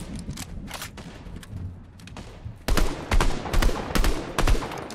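Gunshots in a Fortnite Zero Build solo match, scattered sharp cracks at first, then a louder run of rapid shots in quick succession, close and punchy.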